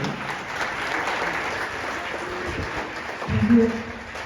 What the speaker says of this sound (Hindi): तो दोस्तों, एक जोरदार तालियों के साथ माइक को हैंड ओवर करेंगे सर के हाथों में, जोरदार ताली।